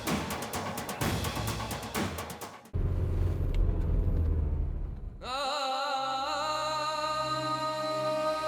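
A car driving on the road, its engine rumble steady and fairly close, with the sound shifting abruptly partway through as a tonal, music-like layer takes over.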